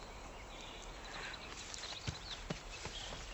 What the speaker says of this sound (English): That's my horse.